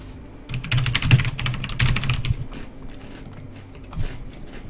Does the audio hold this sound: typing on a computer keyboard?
yes